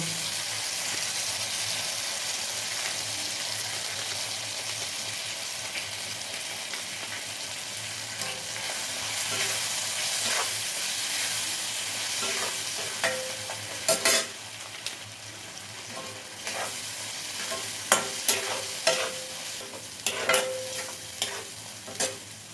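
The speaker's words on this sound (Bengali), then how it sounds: "তড়কা মশলাটা দেওয়ার পরে একটু নেড়ে চেড়ে নিয়েছি।" Tarka spice mix for egg tarka is stirred and fried in a pan, giving a steady close sizzle with scraping spoon strokes and clinks that grow busier and louder toward the end.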